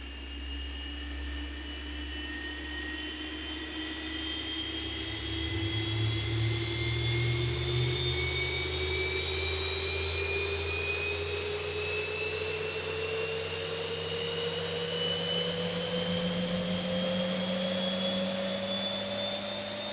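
Boeing 737 jet engines spooling up during pushback in X-Plane 11, a steady whine climbing slowly in pitch over a low rumble that grows louder partway through, continuous and without voices.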